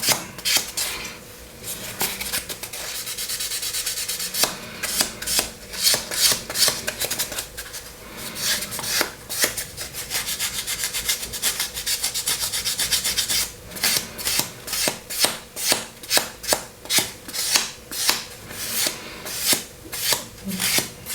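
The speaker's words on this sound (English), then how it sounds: "I tend to find it's better to sand it, so sand in one direction, because aluminium does seem to have a grain" An aluminium part for an F-104 Starfighter scale model is sanded in one direction, a close, rhythmic series of rasping back-and-forth strokes that speeds up into steady rubbing toward the end.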